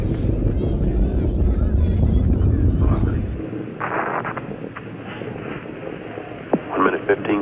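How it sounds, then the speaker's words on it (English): Space Shuttle Challenger lifting off on the 25th shuttle mission, a deep rumbling roar that dominates the first three seconds and then drops to a fainter crackling rumble, with a commentator talking over the sound. "Liftoff of the 25th Space Shuttle mission, and it has cleared the tower."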